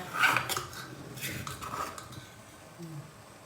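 Metal pot clinks and scrapes near the start while curry paste goes into water for a southern Thai sour or yellow curry, fading to quieter kitchen handling with soft background noise.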